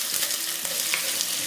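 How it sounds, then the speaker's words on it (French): Onion frying in oil in a small pot, a dense, even hiss of sizzling throughout with faint crackles, close and steady, no talking. "Étape 1, on met l'oignon dans l'huile."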